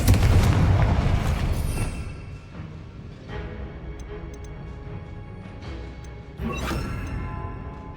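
Confringo blasting-spell explosions in Hogwarts Legacy: a heavy booming blast that rumbles and decays, then several smaller pops and cracks, and a second sharp burst near the end, loud and close, with no talk.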